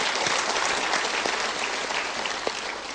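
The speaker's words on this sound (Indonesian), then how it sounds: "kita berikan tepuk tangan dulu" An audience bursts into sustained applause, a dense, even wash of clapping from many hands lasting a few seconds with no voices over it.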